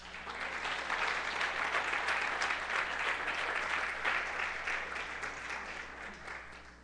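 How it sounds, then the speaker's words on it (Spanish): A church congregation at a Sunday service applauds the Lord with steady, dense clapping that fills the room for several seconds, then eases slightly toward the end. "Más un fuerte aplauso al Señor."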